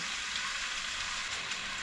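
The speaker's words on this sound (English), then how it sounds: "it is pretty hot, so you can hear the sizzling" Chicken for Nepali bacon chicken sizzles in a hot wok, a steady, close hiss and crackle of frying that continues without pause.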